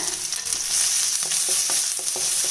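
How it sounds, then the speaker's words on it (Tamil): Onions and green chilies sautéing in a hot pan, a continuous bright sizzle broken by regular scraping strokes of a spatula, close and alone with no talking. "இப்போ இந்த வெங்காயம் ஓரளவுக்கு வதங்கினா போதுங்க"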